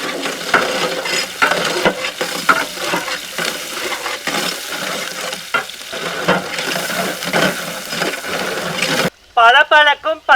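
Onions frying and being stirred in a pan with cinnamon, cloves and cardamom for egg biryani, a steady sizzle with scraping stirs under a continuous talking voice, then a few louder bursts at the end.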